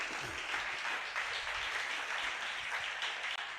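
A church congregation applauding in praise of the Lord: a steady, even wash of many hands clapping together, sustained and moderately loud throughout, with no speech heard.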